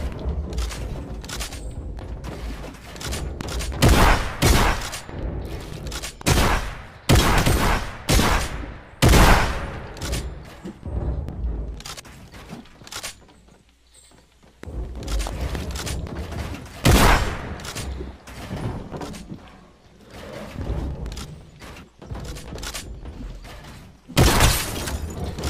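Rapid bursts of gunfire in a Fortnite match, with dense volleys and sharp shots crackling throughout, some shots loud and close, others quieter, with short lulls between exchanges.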